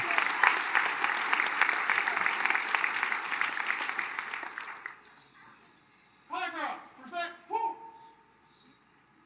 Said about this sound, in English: One more round of applause for our veterans